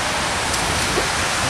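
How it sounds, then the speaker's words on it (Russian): Steady rain falls in Khabarovsk, a dense, even hiss that fills the whole stretch without pause, close and fairly loud, with no voices. "Дождик."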